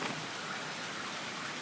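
Steady rain falls under very strong winds, a dense unbroken hiss of drops on surfaces that stays constant and fairly loud for the whole moment, with no voices.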